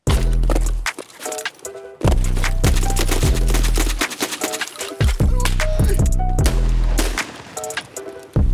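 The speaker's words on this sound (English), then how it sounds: "we're gonna go blast some PMCs with some shotguns" Shotgun fire in the video game Escape from Tarkov, loud booming blasts in rapid bursts of several shots, with brief pauses between volleys and echoing tails.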